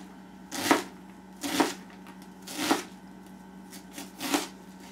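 A knife dices an onion on a cutting board, four or five crisp, evenly spaced cuts sounding close and clear with brief pauses between strokes.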